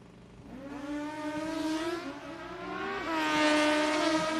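Turbo Kawasaki drag racing motorcycles roar down the track, engines climbing in pitch through gear changes with a loud, sustained howl that rises again near the end; no talk.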